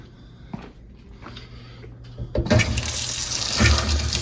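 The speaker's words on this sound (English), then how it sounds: "turned on the hot water at the tank where I shut it off" Hot water from a faucet, turned back on at a tank supply with a 2-inch line, starts after a few quiet clicks and handling sounds, then gushes loudly and steadily, hissing and splashing up close.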